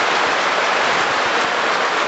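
Heavy rain pours down during a storm, a dense, steady hiss of drops drumming on surfaces close by, continuous and loud with no break.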